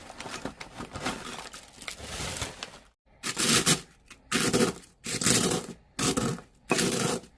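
Crisp Sun Chips crunch and crackle under a pestle in a mortar, first a continuous grinding stretch, then five separate loud crushing bursts with brief pauses between them.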